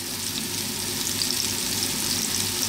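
Sliced mushrooms frying in olive oil over a lively heat with a little black pepper, giving a dense, steady sizzle and crackle that holds constant and close the whole time.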